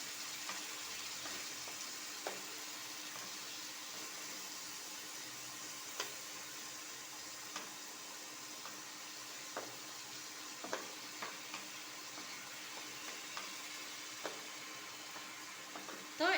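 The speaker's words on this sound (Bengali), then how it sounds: "এবার ভালোভাবে নাড়াচাড়া করে নেব, যাতে টমেটোর যে একটা কাঁচা গন্ধ আছে সেটা যাতে না থাকে।" Tomatoes frying in a pan give a soft, steady sizzle, punctuated by sparse light scrapes and taps of a spoon stirring them every second or two, with no talking.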